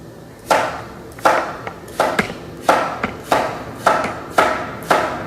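Knife chopping vegetables on a cutting board, about eight sharp, evenly spaced strokes at a steady rhythm, close and clear with no talking.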